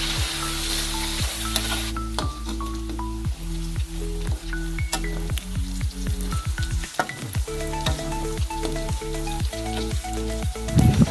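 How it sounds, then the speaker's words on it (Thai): Pork belly frying in hot oil in a pan, a continuous loud sizzle with repeated clacks and scrapes from a utensil stirring through the pieces, one short quieter pause partway through, no talking. "ก็ค่อยๆคนหมูสามชั้นของเราเลยครับ ทอดไปเรื่อยๆเลยครับ"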